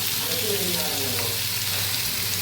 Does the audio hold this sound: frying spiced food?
yes